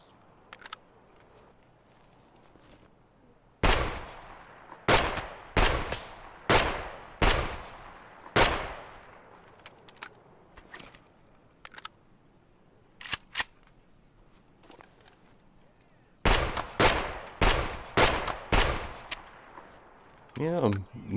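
Gunfire in the video game Escape From Tarkov, in two bursts of sharp, loud single shots spaced about a second apart, each ringing out briefly, with quiet gaps between.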